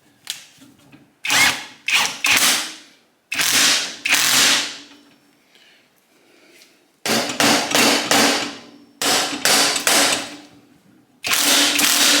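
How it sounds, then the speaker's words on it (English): A hand ratchet cranks down a bolt to split the engine cases of a 1989 Kawasaki KX80. Loud, close bursts of rapid clicking come in several separate runs, with short pauses between them. "as I crank down on this bolt, it's going to push against the crank and pull up and pull the left-hand part of the case with it"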